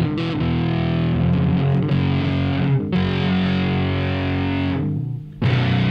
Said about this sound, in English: This was the day I discovered distortion.